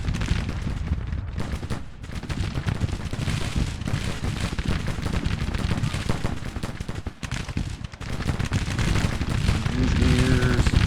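Troops trade rapid gunfire in the Civil War strategy game Grand Tactician: The Civil War, a dense, continuous crackle of rifle volleys and scattered reports that keeps up throughout without letting up.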